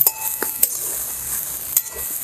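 Cluster beans (guar) dry-roasting in a pan, soft scraping stirs and a few metallic clinks of a spoon against the pan over a quiet background hiss, close and without talk.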